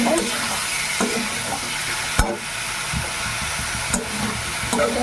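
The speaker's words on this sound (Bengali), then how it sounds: "মাছগুলোকেও খুব সুন্দরভাবে কষিয়ে নেবো" Small fish sautéing in a pan, a steady close sizzle with a few stirring clinks and scrapes throughout, no voices.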